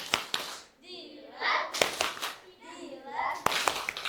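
Children in a classroom perform the ice cream clapping chant, sharp hand claps alternating with sung chant lines in a repeating rhythm, close and lively, with the teacher's and kids' voices between the claps.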